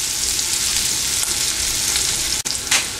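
Onions frying in a pan until they turn slightly brown give a dense, steady sizzle and crackle, close up and loud. One brief dip in the middle interrupts the frying, which otherwise continues without talk.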